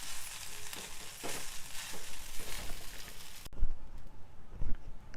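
Idlis are stirred in a frying pan, giving a sizzling hiss with scraping, tossing bursts, fairly close, then a quieter stretch of stirring noise.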